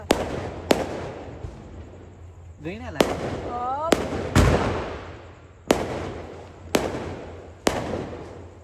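Diwali firecrackers go off in a city at night, sharp bangs popping every second or so, with a couple of rising whistling streaks and a deep boom in the middle, as a voice talks briefly.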